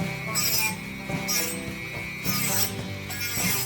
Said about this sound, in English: we just have to do some hand sanding just to finish it all down